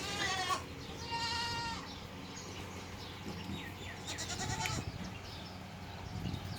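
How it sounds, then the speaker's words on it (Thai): Baby goats on a dairy goat farm bleat several times, with clear nearby cries among a steady noisy barn background and other animals bleating faintly around them. "อันนี้ลูกแพะนะคะ"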